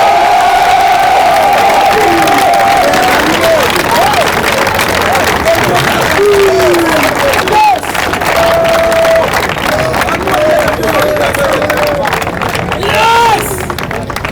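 A large crowd at a religious gathering acclaiming Jesus Christ, loud continuous cheering and shouting close by, with a voice talking over the roar throughout.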